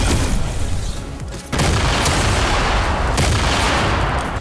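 Heavy booming cannon fire in Fortnite fills the clip with loud, dense blasts; a brief dip in the middle, then the barrage resumes with no talking.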